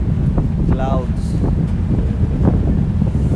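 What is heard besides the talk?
wind on the coast, microphone wind noise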